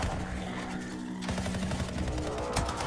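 Gunfire from a video game shown at EA Play E3 2018, a dense, loud barrage of rapid shots and blasts rattling continuously over a busy game soundscape, with no talking.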